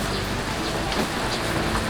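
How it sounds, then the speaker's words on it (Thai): Steady rain falls outside the cabin of a sport-fishing boat, a dense, even hiss of drops on the surface around it, fairly loud and continuous with no talking. "ฝนตกอยู่ข้างนอกนะครับ"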